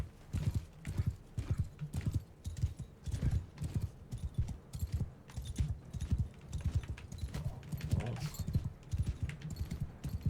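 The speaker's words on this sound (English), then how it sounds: "So there's one horse rider." Horse hooves clip-clop steadily and loudly during a battle in Mount & Blade Bannerlord, a fast continuous galloping rhythm close by, with no talk over it.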